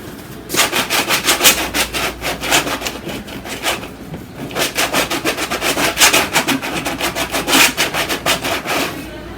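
A kitchen spatula scrapes paint across a canvas on an abstract painting, making repeated rasping strokes in rhythmic bursts with short pauses between them, fairly close and loud with no talking.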